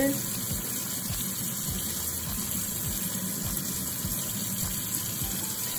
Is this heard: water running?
yes